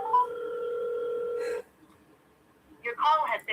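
A phone call goes out with a steady dial-type tone for about a second and a half, then a pause, followed by a burst of automated voice from the line.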